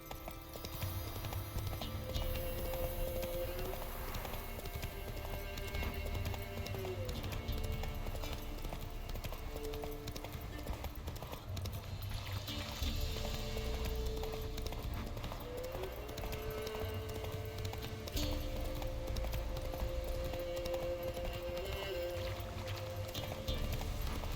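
Horse hooves clip-clop steadily while riding in The Witcher 3 video game, a continuous trotting rhythm with music and ambient game sound, plus brief speech.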